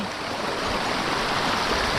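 The Alitao River, fed from Mount Banahaw, rushes steadily as a loud, close, unbroken wash of flowing water with no voices.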